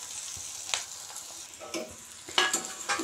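A stale chapati mixture is stirred in a pan, giving soft, intermittent scraping strokes over a faint sizzle, quiet and close, with a few louder stirs toward the end.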